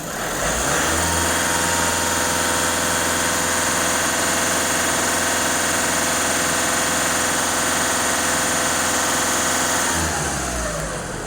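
A warmed-up Skoda Octavia A5 1.6 TDI diesel engine idles and is then held at about 2500 rpm, giving a loud, close, continuous drone with a dense clattering texture that drops away near the end.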